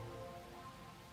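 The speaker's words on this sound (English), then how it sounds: "More rain." Steady rain in the video game Master Detective Archives, a soft continuous hiss of drops falling on surfaces with a low rumble beneath, even and unbroken throughout with no voices.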